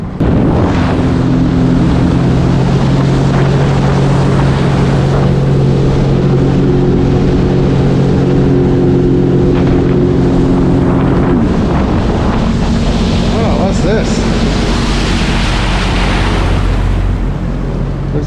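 A Sea-Doo personal watercraft rides on the St. Lawrence River in the 1,000 Islands, its engine droning loud and steady under heavy wind rush and water splash, with pitch shifts as it changes speed.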